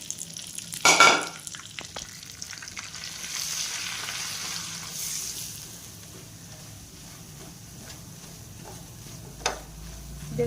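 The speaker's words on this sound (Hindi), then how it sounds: "बेसन डालने के बाद अच्छे से हमने इसे भूनना है।" Gram flour being roasted in hot homemade ghee in a pan for barfi: a quiet, continuous low sizzle with occasional stirring scrapes and a brief clatter near the start, heard alone without talk.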